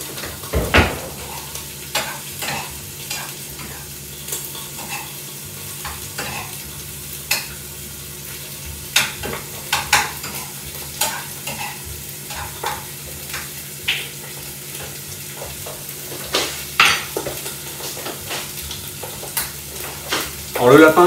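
Rabbit pieces browning in a hot pan, a continuous close sizzle broken by frequent stirring scrapes and clacks of a utensil throughout.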